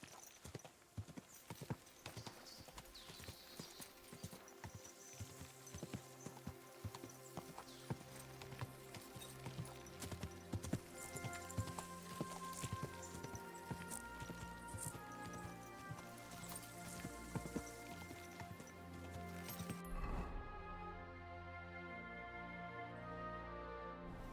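Steady, rapid clip-clop of horse hooves trotting along in the video game Kingdom Come: Deliverance II, loud and continuous over background music, with no talking.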